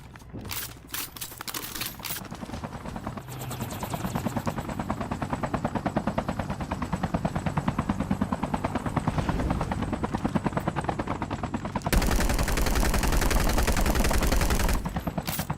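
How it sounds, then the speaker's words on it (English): A helicopter in a battle royale video game thrums steadily and loudly throughout, mixed with bursts of rapid gunfire and a sharper, louder stretch near the end; no one speaks. "Chopper there."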